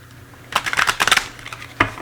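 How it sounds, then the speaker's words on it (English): A quick flurry of crisp papery riffling and tapping as oracle cards are shuffled close by, followed by one sharp snap, with no talking. "Let me shuffle a couple more times."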